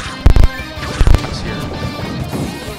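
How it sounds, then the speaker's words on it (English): Forward smash hits in a Super Smash Bros. Ultimate match between Luigi and Villager, two sharp, loud thwacking impacts in quick succession, each a short double burst, over busy game ambience. "Another forward smash."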